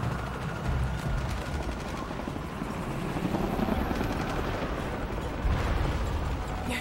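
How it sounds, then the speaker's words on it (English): A steady, dense roar of helicopter rotors in the video game Shadow of the Tomb Raider, with rumbling low thumps and scattered gunfire-like bursts underneath, loud and continuous throughout. "More helicopters."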